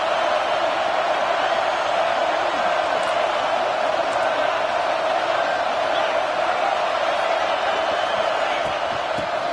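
Dense, loud roar of a college football stadium crowd urging on the home defense during a red zone stand, a sustained, unbroken wall of noise with faint whoops.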